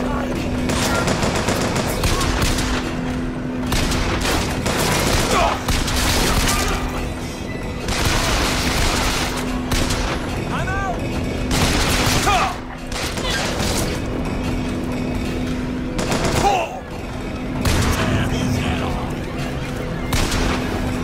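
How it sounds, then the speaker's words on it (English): Sustained gunfire in Bioshock Infinite: loud, dense automatic bursts and fusillades running almost without pause, with booms mixed in and short gaps between volleys. "Now I'm being shot."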